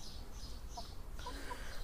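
Black and dark brown chickens clucking softly on a sunny day, a few short faint calls over quiet outdoor background noise.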